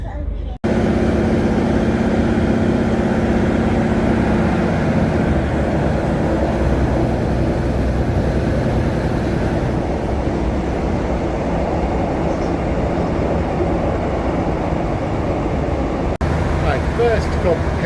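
A train travels through Devon toward Exeter St David's with a steady, close rumble and hum of the carriage in motion, lasting throughout with little change, and a soft squeal near the end.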